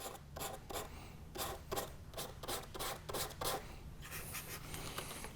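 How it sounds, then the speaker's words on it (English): Sandpaper scuffing over a scratch on the hull rail of a Gatorshell board, steady rasping strokes repeated in a quick rhythm, close and fairly quiet with no talking. "So what I'll do is come over here, scuff it up enough."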